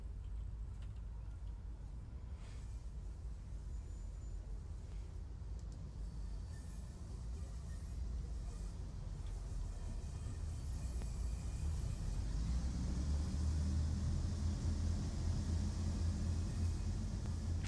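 A simulated passenger train in Train Sim World pulls away on the Northern Trans-Pennine route and accelerates, a steady low engine rumble that gradually builds in loudness and grows heavier toward the end.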